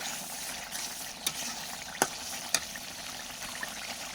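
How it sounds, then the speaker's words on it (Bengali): Meat going into a pan of oil-glazed fried spice paste for a village-style meat curry with vegetable stalks: a steady low sizzle with a few sharp splattering pops as pieces drop in. "এখন আমি এটাতে দিয়ে দিব মাংসগুলা"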